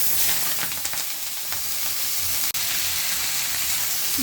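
Vegetables hit hot oil already seasoned with cumin seeds and green chili, giving a steady, close, loud sizzle with crackling bursts throughout and no talking.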